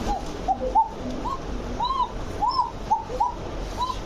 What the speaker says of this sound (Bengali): দেখেন ককা যে কক কক করতেছে